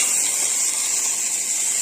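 Water poured into a hot tempering for muthiya makes a steady, loud hissing rush, continuous throughout with no talking.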